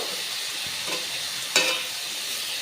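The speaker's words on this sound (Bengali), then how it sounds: "চিংড়ি মাছ দিয়ে আবার একটু নেড়ে চেড়ে নেব।" Prawns and ridge gourd are stirred in a hot pan, a soft steady sizzle with a scrape or two and one louder clatter.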